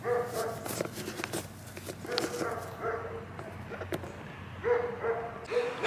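The neighbors' dogs bark in scattered bursts at a moderate distance outdoors, with some whimpering, while people talk nearby.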